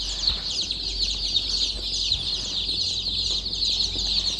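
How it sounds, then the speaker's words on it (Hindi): Black Australorp and Rhode Island Red chicks in a brooder give a steady, dense chorus of high peeping, close and continuous with no talking. "तो ये व्यूवर्स आर आई आर के चिक्स हैं"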